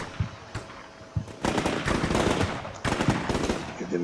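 A machine gun in the tactical war game Combat Mission Shock Force 2 fires two long, loud bursts of rapid shots during a dusk ambush on Marines, with a few sparse single cracks before them.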